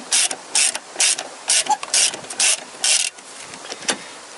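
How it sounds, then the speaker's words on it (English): A hand ratchet with a 10 mm socket turns gearbox bolts on a Toyota Corolla, giving repeated close bursts of clicking in short uneven strokes with brief pauses between them. "for that I need 10 millimeter socket, what fits in there, and then I open all of these bolts"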